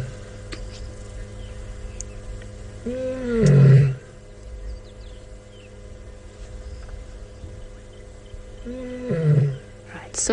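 A lioness on an evening safari drive lets out two deep, loud roaring bouts a few seconds apart, with a quiet outdoor background between them.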